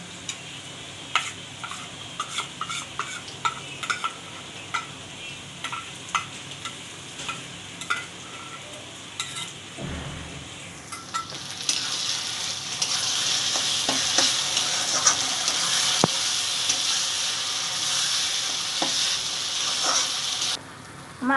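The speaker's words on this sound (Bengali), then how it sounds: "আমার আদা রসুনের পেস্টটা আর পেঁয়াজটা কষানো হয়ে গেছে।" Onion with ginger, garlic and dried red chilli paste sautéing in a pan for a mutton curry, scattered stirring clicks first, then a louder continuous sizzle swelling in the second half, no talk.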